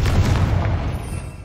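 A Confringo spell blast in the Hogwarts Legacy video game, a single deep booming burst that rumbles and fades over about a second.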